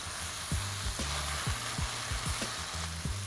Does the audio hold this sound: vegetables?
yes